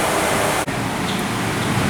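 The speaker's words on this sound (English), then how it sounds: "The noise you're hearing is the wind rushing through the wind lines into the various parts" A steady rushing hiss of air moving through the wind lines of a 4/26 Wurlitzer theatre pipe organ, fed from a blower down in the basement, broad and continuous, with one brief dropout and no voices.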